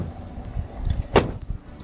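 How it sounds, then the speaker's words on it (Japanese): A car door fitted with a door stabilizer shuts once with a single short, solid thud, heard against quiet background noise. "ドアを閉めた時の音が少し変わったところですね"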